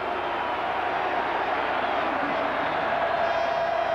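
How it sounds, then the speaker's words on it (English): At a 1990 Michigan at Ohio State college football game, the stadium crowd gives a continuous, even roar that fills the whole moment, with a commentator talking over it. "That's a second crowd noise."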